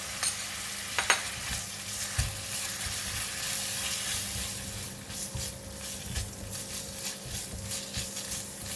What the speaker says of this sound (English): Continue to stir fry until the meat is cooked.